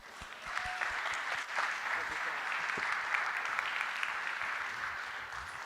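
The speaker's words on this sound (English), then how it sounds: "So big round of applause for Harlan." Sustained audience applause at a tech talk welcoming the next speaker, dense steady clapping filling the room for several seconds, fairly loud and even, with no talk over it.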